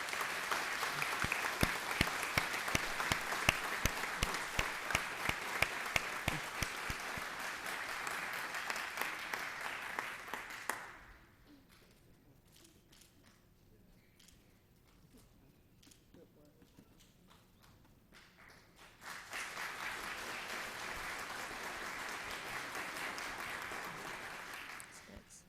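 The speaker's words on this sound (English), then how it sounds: "Please give them a round of applause." An audience at a police department service awards ceremony gives a sustained round of applause, which stops for several seconds and then resumes just as loudly.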